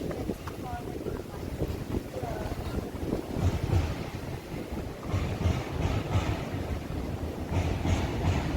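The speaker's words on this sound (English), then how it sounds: "The sound of the train" A train rumbles past in London, a close, heavy roar mixed with wind buffeting the microphone that swells and pulses through the whole stretch, with a voice briefly audible near the start.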